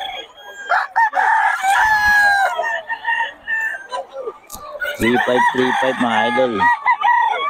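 Young roosters (stags) on a farm crow loudly and close, several long drawn-out crows with some clucking, while someone speaks briefly.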